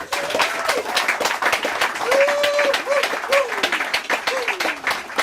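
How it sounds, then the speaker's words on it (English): An audience gives a guitarist a sustained round of applause, dense steady clapping with whistles and cheers rising over it throughout. "please give him a big round of applause"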